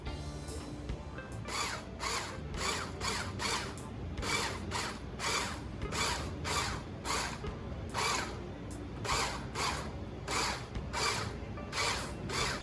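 A blender pulses split pea dal in about a dozen short, loud bursts of motor whir, each separated by a brief gap, with no voices.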